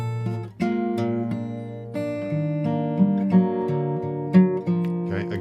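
Fingerstyle acoustic guitar plays a song melody over a low bass line, in a slow two-bar phrase of plucked notes, solo and up close.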